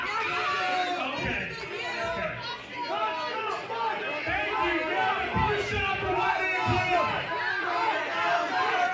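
A wrestling crowd at a live PWE show in Ontario, Canada, with two wrestlers in the ring, fills the space with loud, continuous chatter and scattered shouts, a dense roar of many voices.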